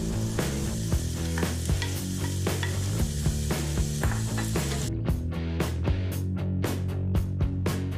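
Onions sizzle loudly in a pan alongside lamb shanks, a dense, steady hiss close up, punctuated by regular scraping and tapping of a utensil as the mixture is stirred.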